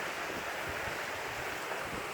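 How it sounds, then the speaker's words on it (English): Steady breeze blowing through an early-spring garden with snowdrops, a constant broadband rush of wind buffeting the microphone, with no voices. "It's a little bit breezy."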